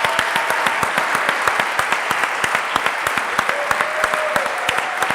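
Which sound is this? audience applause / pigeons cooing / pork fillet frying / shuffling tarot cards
audience applause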